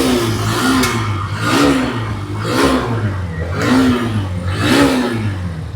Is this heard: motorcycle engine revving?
yes